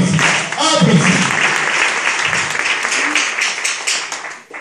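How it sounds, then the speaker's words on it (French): Congregation applauding for a general preacher at an outdoor Easter ceremony on Mont Mangadzi in Dolisie, continuous clapping with voices talking and calling out over it. "Applaudissez pour le prédicateur général"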